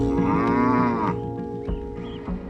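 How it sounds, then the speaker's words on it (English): Cattle on a large outback cattle station west of Brisbane low loudly and close by, one long drawn-out moo over steady background noise, followed by fainter distant calls. "John Summerfield owns a vast cattle station nearly 900 kilometres west of Brisbane"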